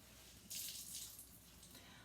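A sink sprayer rinses out a scoured sink, a faint soft hiss of spraying water that swells briefly and then continues low.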